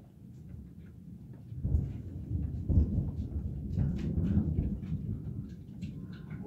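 Thunder rumbling during an intense lightning storm, a low rolling boom that swells after a quiet start and sustains with uneven surges, moderately distant, with no talking.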